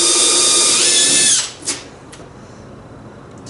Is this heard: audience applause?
no